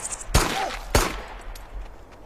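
Two loud, sharp shotgun blasts about half a second apart, each with a short ringing tail, fired during a zombie survival video game set in a village.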